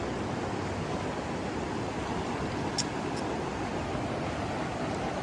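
Floodwater pours across flooded rice fields in a steady, broadband rush that never lets up, heard close and alone, with no voices over it.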